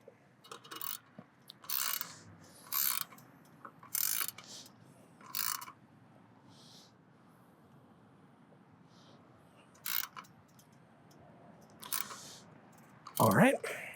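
A bolt is tightened with hard cranks while a fat tire recumbent e-trike is assembled, giving a series of short, crisp metallic clicks in spaced bursts over a quiet background, followed by a brief voice-like sound at the end.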